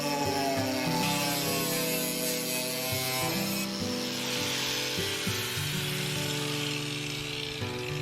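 An angle grinder cuts through a 4 mm thick stainless steel sheet, producing a loud, continuous abrasive grinding whine whose pitch and texture shift as the disc bites into the metal, with no voices.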